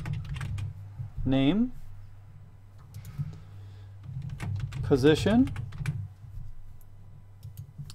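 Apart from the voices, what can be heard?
typing on a computer keyboard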